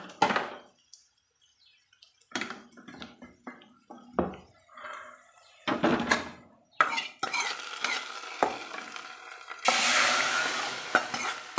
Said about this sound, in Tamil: இப்போ நம்ம அதை எடுத்து குழம்பு கூட கொட்டிக்கலாங்க